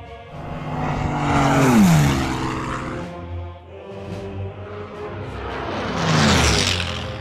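Aircraft engines from a WW2 strategy game, Order of Battle, swell and fade as planes pass twice, a droning roar rising to a peak and receding without any talk.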